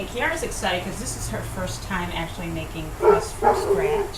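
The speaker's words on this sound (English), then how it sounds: "That's our dog" A pet dog named Caesar barks and yips in short excited bursts in a home kitchen, the loudest ones near the end, with people talking over it.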